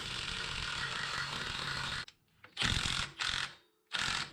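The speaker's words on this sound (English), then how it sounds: "So I'm just gonna put the nut on it right here, and we'll use this to pull in the CV shaft" A ratchet wrench tightening the axle nut to draw the CV shaft into the wheel bearing of a Jeep Liberty, heard as a steady close ratcheting clatter, then a pause and three short bursts of clicking.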